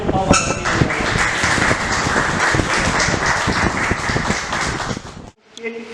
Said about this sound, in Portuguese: A salva de palmas para a filha.